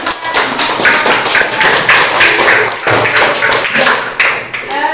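Elementary school classmates give a student group a burst of loud, close, dense applause that holds steady throughout.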